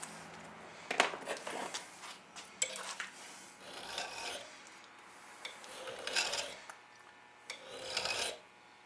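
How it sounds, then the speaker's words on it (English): A metal file rasps back and forth across a stamped pan shank in a series of scraping strokes, each a short harsh rub, fairly close and with no talking. "we're going to hit the file on both sides of this pan shank"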